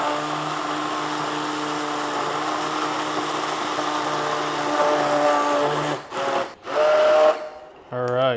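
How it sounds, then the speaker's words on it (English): Kitchen blender pureeing cooked dal to a smooth consistency, a steady loud whirring drone for several seconds, then cutting in and out in bursts before stopping. "So I'm gonna puree this to a smooth consistency"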